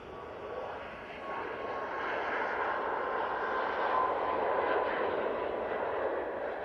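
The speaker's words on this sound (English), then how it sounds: "And that Max 8 is off to Faro" A Jet2 Boeing 737 Max 8 departs Manchester Airport with a steady, loud jet roar and a thin engine whine, swelling slightly as it climbs away, with no talk over it.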